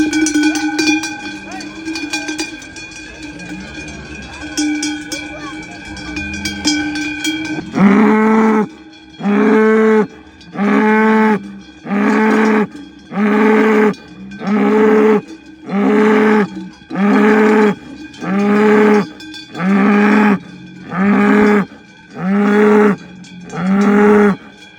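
Cows lowing at an alpine summer pasture during the spring move up to the mountain, with cowbells clanking; a long low moo first, then a steady run of loud rhythmic calls close by, repeated about every second.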